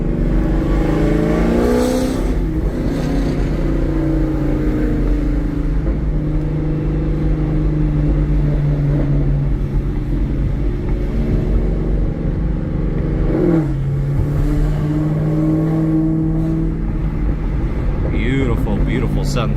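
A 2013 Chevrolet Camaro ZL1 V8 with headers and a Corsa exhaust drones loudly and steadily while driving, climbing in pitch after a downshift and revving harder near the end, with a voice talking over it throughout.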